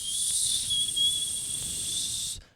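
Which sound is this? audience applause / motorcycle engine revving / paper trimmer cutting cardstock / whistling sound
whistling sound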